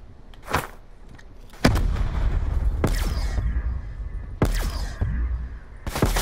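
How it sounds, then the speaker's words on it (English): Grenade blasts and heavy booms from the Call of Duty: Black Ops 4 Blackout video game, with several loud, sharp detonations spaced a second or so apart, each followed by a rumbling low tail. "I threw a grenade up there."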